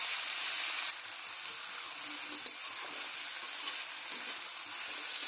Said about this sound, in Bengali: তো মোটামুটি এগুলো দেওয়ার পরে কিছুক্ষণ ভেজে নিলাম।